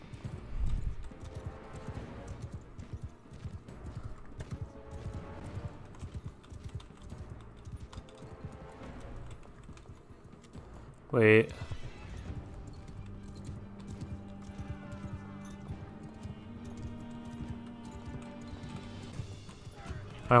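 Steady clip-clopping hoofbeats of a horse in Mount & Blade II: Bannerlord run throughout, with a sharp burst of clashing noise midway and a low droning tone later, over busy game background sounds.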